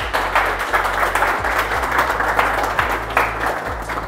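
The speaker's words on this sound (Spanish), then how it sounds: "para quien pido un fuerte aplauso, por favor" Applause rises from a live audience at the Mister Chile 2023 reality show as its director is welcomed, a steady wash of clapping with low rumbling room noise under it.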